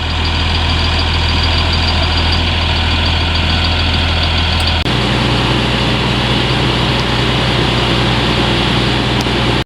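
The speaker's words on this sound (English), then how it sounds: "There's the big pump on the front where he pumps it out of" A 380-horsepower tractor running the front-mounted pump of a three-axle slurry tank to fill a tanker, a loud, steady, close engine drone with a heavy low rumble that shifts pitch slightly midway.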